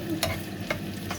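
Onions frying in a pan and being stirred, a steady close sizzle broken by a few quick scraping strokes of the utensil.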